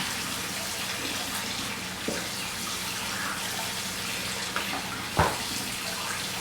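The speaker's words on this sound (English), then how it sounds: "So on this one, I'm not using any soap, just some warm water" Warm tap water runs steadily into a sink while a cast iron skillet is scrubbed with a plastic pot scrubber, no soap. A few soft knocks and clanks of the pan come through the flow.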